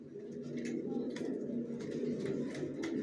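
Racing pigeons coo in a low, continuous murmur in a loft, several birds overlapping in a close, steady chorus.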